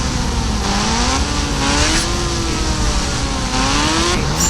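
A Hayabusa motorcycle speeds along in a 3D bike racing game, its synthetic engine holding a steady, loud drone with a gently wavering pitch that rises and falls for several seconds, with no talking over it.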